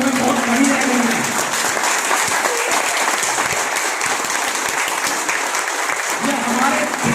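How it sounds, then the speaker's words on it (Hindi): Dense, continuous applause from a large audience fills a political rally in Okhla, steady throughout with faint voices underneath. "दिल खोल खुलूस के साथ उनका तालियों के साथ स्वागत करेंगे"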